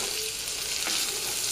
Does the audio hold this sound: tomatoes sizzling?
yes